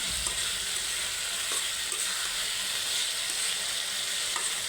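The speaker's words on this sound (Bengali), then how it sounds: "এখন দিয়ে দেবো শুটকিগুলো আমি। দিয়ে সুন্দরভাবে কষিয়ে নেব।" Dried fish sautés in a spice paste in a hot pan, giving a dense, even sizzling hiss with faint scraping stirs now and then, close and without talk.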